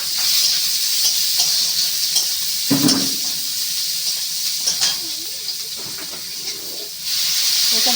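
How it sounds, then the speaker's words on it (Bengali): Onions and panch phoron spices frying in hot oil give a steady sizzling hiss. Scattered stirring scrapes and clinks of a utensil against the pan break through it, with a louder clatter partway through. "ফোড়নে 5 ফোড়ন আর পেঁয়াজ দেবো।"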